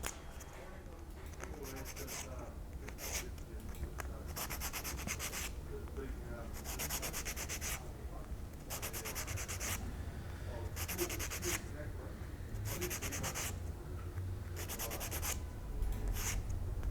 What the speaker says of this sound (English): Just takes a little bit more sanding.